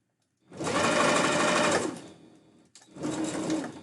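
A sewing machine stitches fabric for a blue husky tail in two bursts, a long loud whirring run of rapid stitches, a brief pause, then a second shorter run, close and alone.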